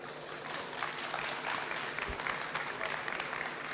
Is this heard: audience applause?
yes